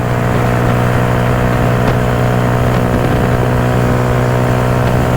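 Motorcycle engine held at high revs near 8,000 RPM while cruising at speed, a loud, steady droning whine with constant road and wind rush and no talking.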